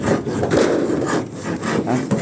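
A hand saw cuts through wood during roof and ceiling work, close and loud, with rhythmic back-and-forth rasping strokes about every half second.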